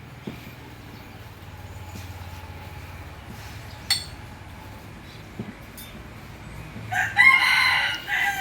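At a pork noodle shop in Thailand, after a quiet stretch with faint clinks, a rooster lets out one loud crow near the end.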